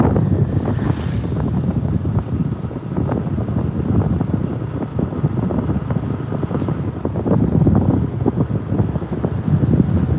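Cold winter wind blows steadily across the open water of Nikli haor in Kishoreganj, a continuous loud rushing buffet with gusty low rumble and no voices.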